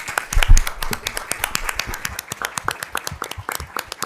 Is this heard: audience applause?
yes